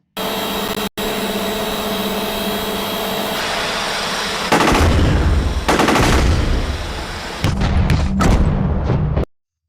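Burst of automatic fire from a machine gun mounted on a small maneuverable drone, loud rapid reports in several bursts over a steady engine-like drone, with brief gaps between volleys.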